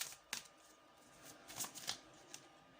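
Tarot cards being shuffled by hand, faint and close, with several crisp riffling bursts spaced irregularly, one early and a cluster of three later, over a quiet background.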